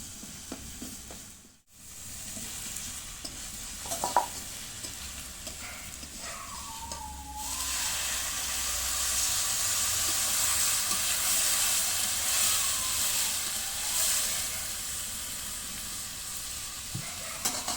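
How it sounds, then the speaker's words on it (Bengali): Spice paste frying in a pan during home cooking, then water added; a steady hiss of sizzling with occasional stirring scrapes, swelling into a louder, brighter sizzle partway through, with no talking. "মশলাটা কষিয়ে দিয়ে দেবো জল।"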